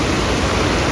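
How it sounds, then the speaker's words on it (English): Heavy monsoon rain during a road trip through Chikmagalur under an orange alert, a dense, loud, unbroken roaring wash with no talk. "It's raining and we are not sure that we'll get to see anything."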